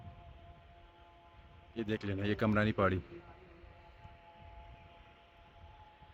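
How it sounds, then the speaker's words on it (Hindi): Maghrib call to prayer (azan) from village mosques in the hills near Timergara, heard as a brief, distant melodic chant over outdoor ambience, with someone speaking nearby. "अभी ये मगरिब का अज़ानें हो रही है।"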